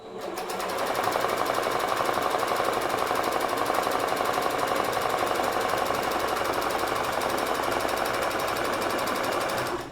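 A sewing machine stitches the ends of tutu elastic together, running a steady, fast, continuous whir close by for nearly ten seconds with no talking.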